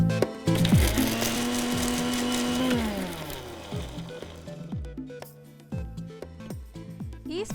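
Mixer grinder coarsely grinding ginger and garlic for biryani masala, a loud motor whine that runs, then slows and stops, followed by bumping and knocking as the jar is handled.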